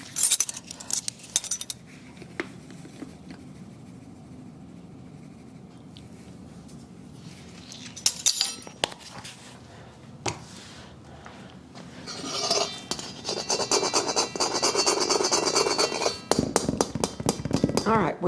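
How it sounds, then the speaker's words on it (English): A gingerbread dry mix of flour and salt pushed through a metal kitchen strainer, scraping and tapping clinks, light at first then a busy rattling stretch near the end, with someone talking throughout. "And I should put this through the strainer as well."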